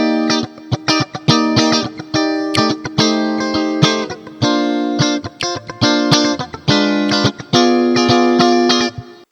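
Electric guitar played through its middle single-coil pickup combined with another single-coil, strummed in a funky rhythm of short chords with choppy stops and bright, ringing tones, loud and alone.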